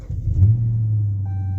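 A Dodge Charger R/T with an engine knock cranks and fires up close by, settling into a steady low rumbling idle after a brief rise in revs.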